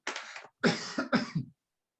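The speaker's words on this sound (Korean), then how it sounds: "이런 말 하다 보니까 저도 기침이 나는군요" A preacher coughs close up during a church sermon, one cough followed by a rapid series of three, then silence.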